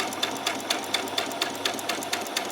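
A sewing machine stitches a seam in lace for a peasant top, its needle punching in a steady, even rhythm of roughly four to five strokes a second, close and moderately loud with no voices.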